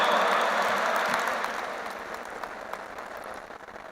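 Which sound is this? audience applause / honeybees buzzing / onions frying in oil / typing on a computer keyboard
audience applause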